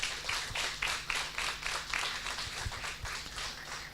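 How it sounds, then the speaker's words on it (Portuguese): A church congregation gives a round of applause for Jesus after worship, steady clapping from many hands filling the space for several seconds with a few sharper claps standing out. "Vamos dar a Jesus uma salva de palmas"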